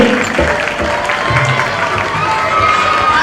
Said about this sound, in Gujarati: ફરી એકવાર તાળીના ગણગણાટ સાથે આપણે સૌ વધાવીએ.